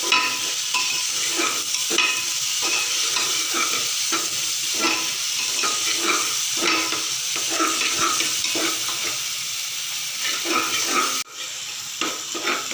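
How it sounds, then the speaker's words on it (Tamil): Onions sauté in a frying pan with a constant sizzle, while a spoon stirs and scrapes in a regular rhythm close by, with no one talking. "பல்லாரி போட்டுக்கலாம். போட்டு கிண்டிடலாம். கிண்டிட்டு பச்சை ஸ்மெல் போகிறது வரைக்கும் நல்லா வதக்கணும்."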